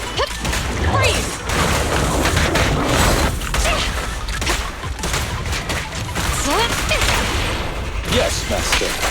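Rapid, sustained gunfire from the Zenless Zone Zero video game fills the scene, with dense bursts of shots mixed with whooshes, booms and crashing impacts, loud and continuous throughout.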